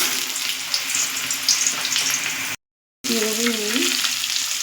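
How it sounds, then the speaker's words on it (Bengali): Pumpkin pieces fry in white oil with a steady, close sizzle that drops out briefly partway through and then resumes, joined by a brief tonal hum. "এবার আমি কুমড়াগুলো ভেজে নেব।"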